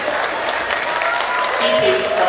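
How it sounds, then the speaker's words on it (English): Audience applause fills the room at a celebrity roast at a convention, a loud, steady wash of clapping with voices talking over it. "That's like the most applause I've ever heard you get, Kroze."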